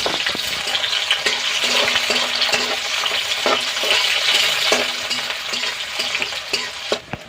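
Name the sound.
onion and chillies frying in oil in a kadai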